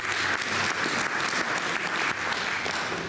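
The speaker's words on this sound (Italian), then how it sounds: "Un applauso Angelo." Audience applause fills the room at a poetry reading event, steady dense clapping from a crowd held at even loudness throughout, with no voices over it.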